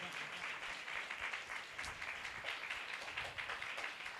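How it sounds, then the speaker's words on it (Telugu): A church congregation at a Christmas service breaks into loud, sustained applause, steady dense clapping filling the room from start to finish. "ఒకసారి గట్టిగా చప్పట్లు కొడదాం"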